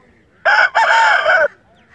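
A Java rooster crows once, loud and close, a single drawn-out call with a brief break early on, against a quiet background.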